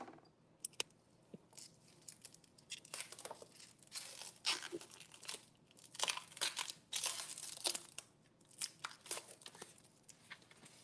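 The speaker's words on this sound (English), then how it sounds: "So let's unwrap." Shrink wrap peeled and torn off a soap dispenser and toothbrush set, close crinkling and crackling plastic in irregular bursts, quiet and with no talking.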